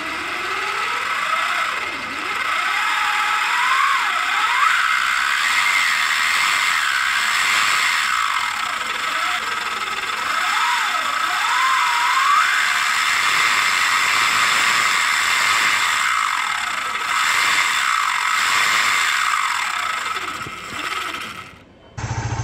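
Timing chains in a motorcycle engine, such as a Triumph Tiger 800 or Honda CB500, give a steady, not very loud mechanical whine whose pitch sweeps up and down with engine speed, continuous and alone, ending abruptly.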